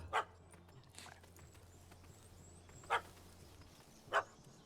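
A dog in The Witcher 3 video game gives three sharp, separate barks, moderately loud over a faint low hum, with long pauses between them.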